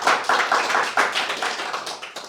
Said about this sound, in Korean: 우리 응원의 박수 한번 쳐주시다.